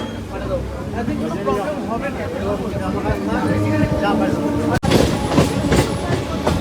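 A train idling at platform four of Baruipur station, steady engine rumble and rattling carriages beneath crowd babble, with a brief dropout then louder clatter near the end.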